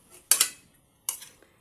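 Pancit habhab ingredients and leafy vegetables being tossed in a pan, heard as two short bursts of clinking and scraping with a brief quiet gap between, fairly close and no talking.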